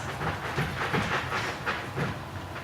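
A train rumbles past with a steady rhythmic clatter and faint hiss, moderately loud and continuous with no voices.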